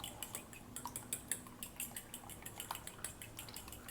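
Beaten eggs being mixed with ingredients in a bowl, quiet rapid clinking of a utensil against the bowl with wet sloshing in an uneven rhythm, close and faint, no talking.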